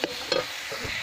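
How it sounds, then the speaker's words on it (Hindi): Tomato spice paste with salt, turmeric and chili powder stirred and fried in a pan, a close sizzle with scraping stir strokes and soft clicks over about a second. "टमाटो बाटन लुण हल्दी लंका गुंड सब पड़ जाइए कषा चलती देखो"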